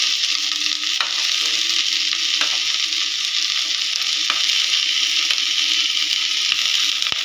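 Banana flower, capsicum, tomato, peas and chickpeas fry in a pan with onions, a steady bright sizzle punctuated by occasional stirring scrapes, no talking.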